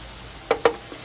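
Onions and egg sauté for Ilocano poqui poqui eggplant dish, giving a steady soft sizzle broken by two quick stirring scrapes close by.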